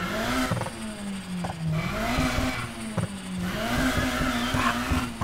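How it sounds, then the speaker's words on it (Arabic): A race car in the video game Need for Speed Heat revs and accelerates with turbo whine, the engine note rising and falling through gear changes, with tire squeal and loud continuous engine roar. "راح تسمع صوت التوربة هنا"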